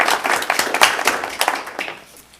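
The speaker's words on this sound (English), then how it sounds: "I want to give them a round of applause." Applause at a Hanover Borough Council meeting: dense, brisk hand clapping from a room of people that carries on steadily and then thins and fades out over the final second.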